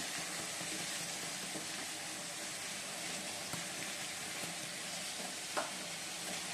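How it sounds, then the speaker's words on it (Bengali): Vegetables for chowmein crackle in a hot pan with a steady, even sizzle that holds for the whole stretch, plus a soft clink near the end and no voices. "সবজিগুলো আবার ভেজে নিচ্ছি"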